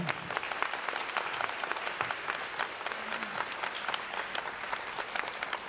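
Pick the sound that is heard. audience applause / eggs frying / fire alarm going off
audience applause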